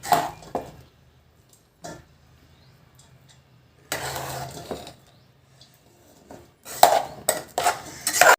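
Boiled bagara rice and eggs tipped into a pot for egg biryani, heard as a few sharp clanks and scrapes of a spoon and metal cookware in separate bursts with quiet gaps between, no speech.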